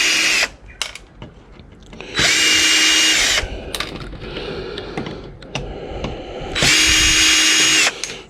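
A power drill driving screws out of a large TV's circuit board during scrapping whines in two loud bursts, each about a second long. Lighter clicks and handling clatter from the loosened board fill the stretches between them.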